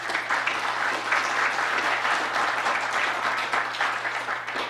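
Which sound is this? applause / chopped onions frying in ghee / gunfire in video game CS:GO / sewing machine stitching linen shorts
applause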